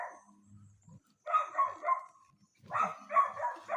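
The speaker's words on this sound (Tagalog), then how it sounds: "May mga aso." Several dogs bark outside a house, the bursts coming in two clusters of yips and barks at moderate distance, with faint low movement between them.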